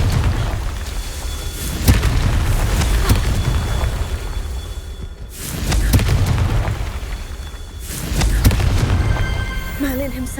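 The Confringo fire spell explodes in the video game Hogwarts Legacy, a series of loud booming blasts with rumbling swells and debris, close and heavy, with brief spoken voice mixed in.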